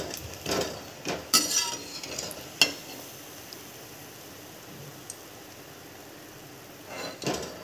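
Bread pakora frying in oil in a kadhai, with a steady low sizzle and a few sharp utensil clinks and scrapes scattered through it. No one speaks.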